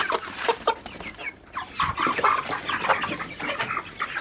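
Chickens and a rooster cluck and squawk close by in a busy, continuous flock chatter, loud and dense, with overlapping calls and no voices.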